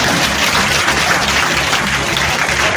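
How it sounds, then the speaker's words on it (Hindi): An audience at a girls' education awareness program and teacher felicitation ceremony claps for itself, a loud, continuous roar of many hands with no voices standing out. "अपने लिए ताली बजा दो,"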